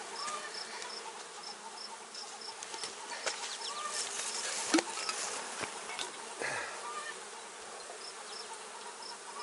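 Honeybees buzz steadily around an open hive during an inspection, a dense continuous drone with occasional louder passes close by, no voices.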